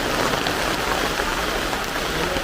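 Steady heavy rain at night, a dense even hiss of drops that fills the whole moment without a break.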